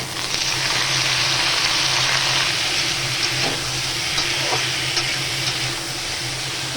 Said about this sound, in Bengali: এবার এর মধ্যে কেটে রাখা কুমড়োটা দিয়ে দিই